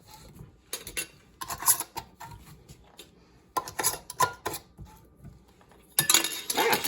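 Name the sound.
screwing metal rings onto glass canning jars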